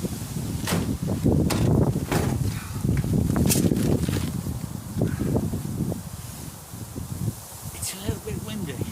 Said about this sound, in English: It's a little bit windy, isn't it?